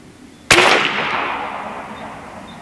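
Seneca Dragon Claw .50 caliber PCP air rifle firing a 247-grain slug at 25 yards: one sharp, loud crack, then a long decaying ring and rumble that fades over two seconds.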